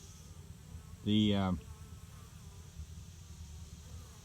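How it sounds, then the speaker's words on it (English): Honeybees buzz around a hive during an August inspection, a soft continuous hum with one louder close buzz sweeping past briefly, and a single spoken word. "bees are coming and going, and they seem to settle back in."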